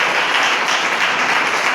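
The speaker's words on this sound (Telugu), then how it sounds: "గట్టిగా చప్పట్లు కొట్టండి." A church congregation claps loudly together, a dense, sustained wash of many hands with no individual claps standing out, over the full short stretch.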